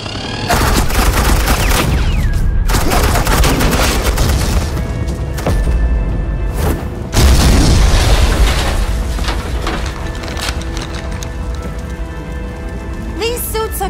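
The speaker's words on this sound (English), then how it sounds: "suppressing fire" Rapid automatic gunfire and booming shots from agents laying down suppressing fire in the video game Batman: The Enemy Within, loud and continuous bursts filling the whole stretch with dense crackling.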